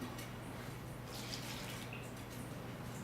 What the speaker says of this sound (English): I'm going to put tap water on all this guys